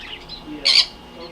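A single short, bright bird squawk rings out inside a small pet store that keeps birds, fish and reptiles, over a low indoor background.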